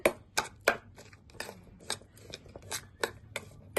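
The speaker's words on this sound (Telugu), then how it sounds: "బజ్జీ అయితే మనం ఇలా కట్ చేసుకోవాలి." Sharp knife strokes slicing through egg bajji, deep-fried battered egg fritters, on a cutting board, about a dozen crisp irregular chops in quick succession, close and clear with no talking.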